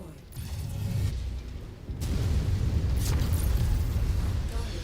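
Artillery cannons being destroyed in the mech combat game MechWarrior 5, heard as a continuous rumbling, mechanical roar with low booms and bursts. A short dip comes before the noise swells and stays loud, with no talk over it.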